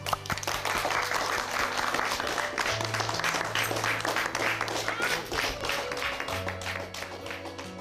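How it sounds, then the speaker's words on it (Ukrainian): Adults at a 2012 prayer-day gathering applaud in a dark room, dense steady clapping from a crowd with low sustained music and some voices underneath. "А ми дорослі аплодуємо"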